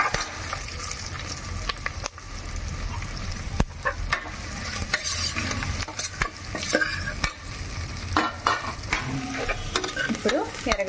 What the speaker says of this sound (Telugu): పచ్చిమిరపకాయలు, ఎర్రగడ్డలు కట్ చేసుకుంటాం కదా, అది సాని ఇందులోకి వేసి బాగా వేయించుకుంటాము.